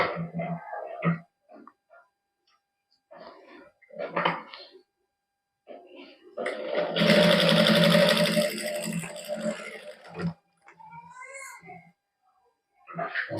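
A sewing machine stitching gota patti lace onto a garment neckline, with a short steady whirring run of stitching between quieter handling noises and someone speaking before and after it.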